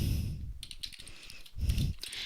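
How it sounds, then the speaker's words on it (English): Keystrokes on a computer keyboard while typing in Microsoft Word, coming in short, irregular bursts of light clicks over a low room rumble. "I'm going to type them here on Word."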